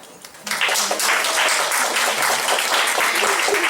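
An audience at a community learning talk on medical missions to Panama bursts into sustained applause, with dense, even clapping that starts abruptly and carries on loud to the end.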